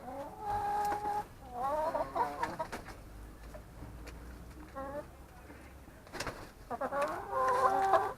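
Backyard coop chickens cluck and murmur nearby in bursts, with some louder squawking calls, against a low background rumble.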